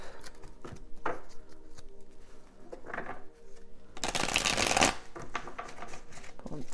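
A tarot deck is shuffled by hand, close by, with several short riffling bursts and then one longer, louder flurry of cards near the end.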